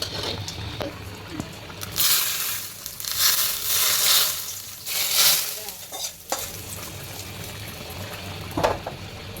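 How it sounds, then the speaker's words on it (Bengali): Cumin paste frying in hot oil for a radish curry, a steady sizzle with stirring scrapes that surges in bursts, close and fairly loud, with no talk over it. "তেলটা দাগাইয়ে জিরা বাটাটা দিয়ে দেবো"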